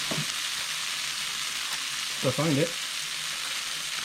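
Tofu frying in oil in a pan gives a steady, dense sizzle throughout, with a brief stirring scrape partway through and a few quiet spoken words.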